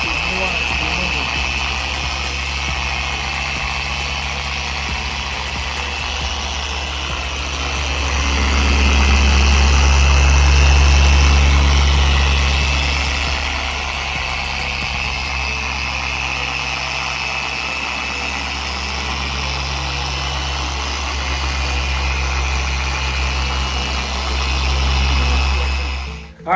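A Shinemate 620 5/15 dual action polisher runs steadily during auto detailing, a constant motor hum with a low drone that swells briefly louder, as if pressed or tilted, then settles again.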